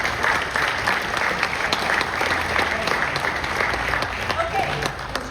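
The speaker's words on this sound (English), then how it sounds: "Round of applause for Daryl." Audience applause at a veterans recognition ceremony in La Quinta, a dense, steady wash of many hands clapping throughout, fairly loud and sustained, with a voice faintly under it.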